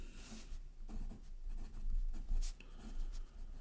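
A pen scratches across paper while writing out math notes, a soft, close, continuous scribbling with short strokes and brief pauses, alone without talk.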